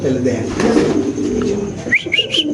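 Pigeons coo softly nearby amid rustling and a flurry of movement, with a few higher chirps near the end.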